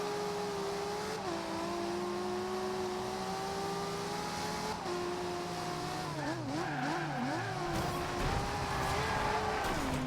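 A Mitsubishi racing car in the Forza Horizon 2 video game holds a steady, loud engine drone with gear shifts, then swerves and revs with tire squeal toward the end, with no talk over it.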